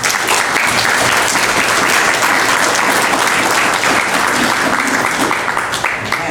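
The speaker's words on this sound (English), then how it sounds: "can we just have a quick round of applause for everyone that showed up on the panel?" Audience at a 2018 health center community forum gives a steady, full round of applause for the panel members, dense hand claps filling the room evenly for several seconds.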